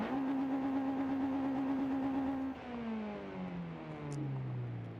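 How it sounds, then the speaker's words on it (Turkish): A Honda Civic engine revs hard in Forza Horizon 5, a steady high drone that drops in pitch midway and climbs again, loud and alone with no talk. "Resmen kükürüyor araba."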